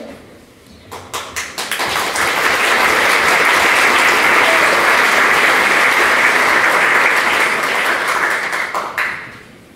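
A conference audience at a 2014 Latin America event bursts into applause: scattered claps build in the first couple of seconds into loud, sustained clapping that holds steady, then drops away sharply near the end.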